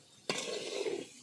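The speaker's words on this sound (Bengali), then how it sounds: "মশলাটা ভাজা ভাজা করবো।" Ground spice paste for a goat head curry hits a hot pan with a sudden loud sizzle, then keeps crackling steadily for about a second as it is stirred, close and alone.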